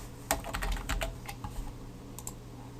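Clicking of computer keyboard keys in a short, irregular burst of typing, close and fairly quiet, followed by a few scattered keystrokes over a low steady hum, with no talking.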